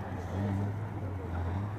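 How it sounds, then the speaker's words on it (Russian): A drift car's engine at a winter drifting championship qualification in Novosibirsk, a steady, loud low drone throughout rather than distinct revs, with people talking nearby. "Что-то по звуку не вообще прям приятный мотор"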